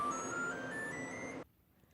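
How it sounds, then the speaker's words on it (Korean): A commercial combi oven's buzzer sounds at the end of its cleaning cycle: a steady, moderately loud electronic tone that holds for over a second and then cuts off sharply, leaving near silence. "청소가 완료되면 부저가 울립니다."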